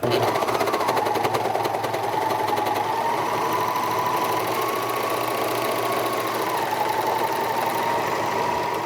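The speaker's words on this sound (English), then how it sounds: "See how fast the serger goes?" A serger sewing machine runs fast and without pause while serging a cloth mask, making a loud, even, high-speed whirring hum with a rapid mechanical chatter throughout.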